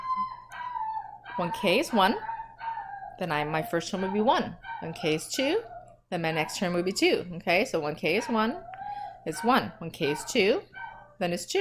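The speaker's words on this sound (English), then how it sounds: "That's my dog wanting to come in and I just can't pause right now." Dog whining and howling to come inside, its drawn-out, high, plaintive tones rising and falling in the background while a person lectures steadily over it.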